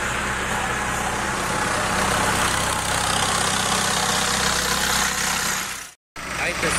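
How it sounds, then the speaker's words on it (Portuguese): Tractor engine arriving at a farm field to tow away a combine harvester, a steady loud rumble running continuously and close, briefly cut out near the end before resuming. "Agora tá chegando o trator aqui, ó, para tirar a colheitadeira aí."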